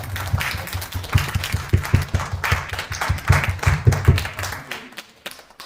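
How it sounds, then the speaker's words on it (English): Applause from an audience at a motivational talk, with crisp, uneven claps from a modest group that build and then trail off into near silence at the end. "Let's have an applause for ourselves."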